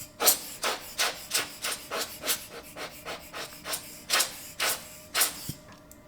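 A swab or brush rubs over a camera sensor to clear dust, giving about a dozen soft, rhythmic scratchy strokes close up, each a short rasping sweep with a slight pause between.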